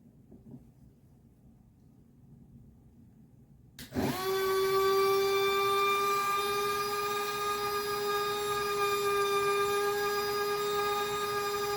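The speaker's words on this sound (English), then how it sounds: "we are drilling in a black jasper stone to make a bead." A cordless rotary tool starts abruptly and keeps up a steady high-pitched whine as it drills into black jasper stone with a water-dipped bit, loud and close, with no talking.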